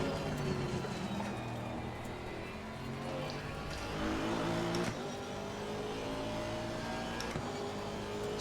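A Porsche race car engine in Assetto Corsa Competizione at a wet Suzuka, giving a steady droning whine with rising and falling pitch and shifting gears, moderately loud, with no talk over it.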